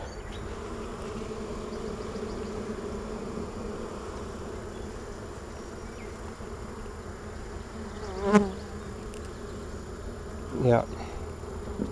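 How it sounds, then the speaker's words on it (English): Dense, continuous buzzing of many honeybees in an open hive, close by, with two short louder rustles or knocks near the end and a faint word spoken. "the bees will tend to make more noise if they're away from the queen"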